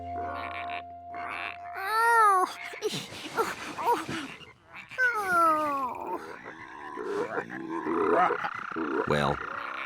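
Cartoon frogs croaking around a pond, several warbling, rising and falling calls over a soft background with light music, close and fairly loud.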